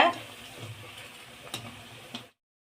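Chana dal masala vadas frying in hot oil, a soft steady bubbling sizzle with occasional light clicks of a ladle turning them, close but quiet, cutting off abruptly into silence.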